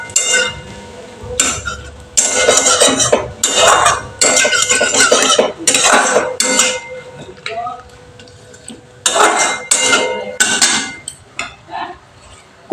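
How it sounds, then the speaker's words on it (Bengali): Bay leaves and two dried red chillies being stirred in hot oil in a home-kitchen pan for cauliflower curry, with repeated bursts of a utensil scraping and clattering against the pan between quieter pauses. "এবার এগুলোকে আমি তেলের মধ্যে একটু ভালো করে নেড়ে নিচ্ছি।"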